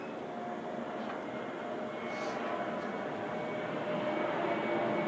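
An airplane passes overhead at a rugby league session outdoors, a steady broadband roar that holds level and grows slightly louder toward the end, with no speech over it.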